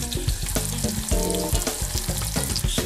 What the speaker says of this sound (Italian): In una casseruola mettiamo dell'abbondante olio extravergine d'oliva e uniamo il porro appena tagliato.